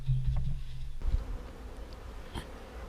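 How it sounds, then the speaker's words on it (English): A dense, close droning buzz of many honey bees in a hive, a steady hum with a brief louder rumble at the start. "absolutely rammed with bees in there"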